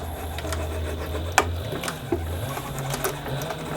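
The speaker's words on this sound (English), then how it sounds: "now we're going to top stitch down the seam of these two exterior panels" A sewing machine topstitches the seam joining two leather exterior panels of a bucket bag, giving a steady close mechanical whir with a few sharp clicks.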